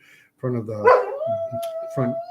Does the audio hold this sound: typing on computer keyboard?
no